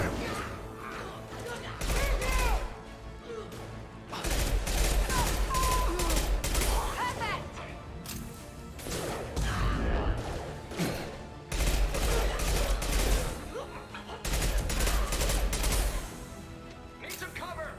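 Bursts of gunfire from the video game Mass Effect 2 come in repeated volleys of several seconds each, loud and dense with sharp rattling shots, and voices talk over the combat between bursts.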